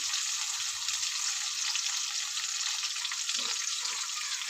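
Spice powders with ginger-garlic paste and potatoes frying in a pan for an egg curry, a steady, bright sizzle holding at even loudness the whole time with a few faint stirring clunks.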